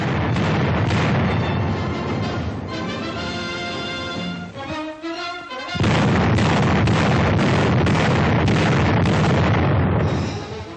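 Artillery guns firing during trial elevation shooting in 1942, a sustained series of loud booming blasts with a brief lull midway before the heavy firing resumes, close and dominant.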